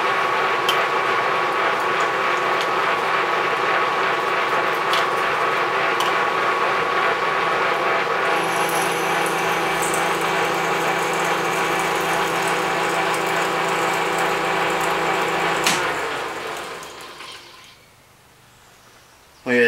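A lathe runs at about 130 RPM tapping speed while its carriage is rolled by hand, giving a steady mechanical whir with a fine ratcheting clatter that keeps up for about sixteen seconds and then winds down to near silence.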